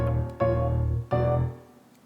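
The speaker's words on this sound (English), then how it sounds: "it's meant to sound like this singular piano playing" A layered piano patch in Logic Pro strikes two rich, full chords, each ringing out and fading, the second decaying longer into near silence.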